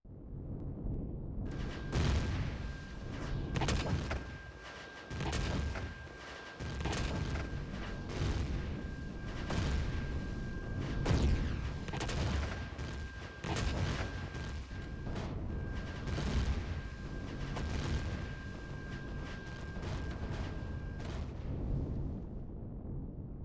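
Ship weapons fire in Empyrion Galactic Survival 1.5 during an assault on a Zirax temple and armoury: a steady barrage of rumbling booms and blasts that swells and pulses for about twenty seconds, then drops off.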